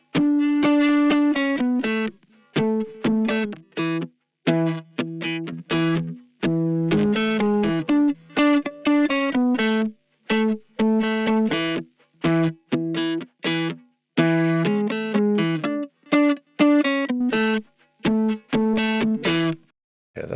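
Electric guitar run through a compressor with a touch of amp-simulator distortion, playing choppy chords and short phrases with brief gaps between them, alone and up close.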